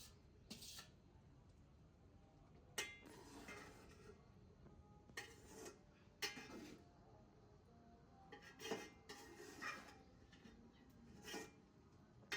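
Rice with jaggery is stirred in a pot in a village kitchen, a metal spoon scraping and clinking against the pot in scattered, faint bursts over quiet background hiss.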